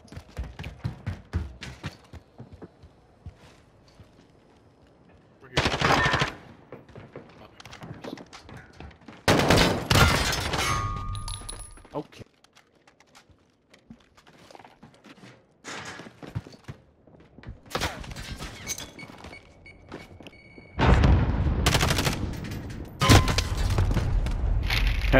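Bursts of gunfire in a search-and-destroy match of a first-person shooter video game, loud volleys separated by quieter stretches with footsteps and thuds between them.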